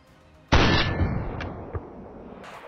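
A single loud gunshot rings out during a firefight near a barn in the video game DayZ. It is a sharp, close crack with a long rolling tail, followed by a few fainter clicks.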